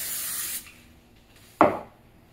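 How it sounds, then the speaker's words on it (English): A brief hissing burst of cooking spray onto a baking pan, then quiet, followed by a short sharp rub or knock against the pan. "I'm just going to spray it"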